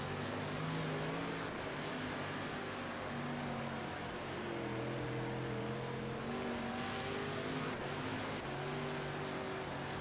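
A dirt race car engine in World of Outlaws Dirt Racing droning and revving steadily through a lap, its pitch rising and falling continuously, loud and alone without voices.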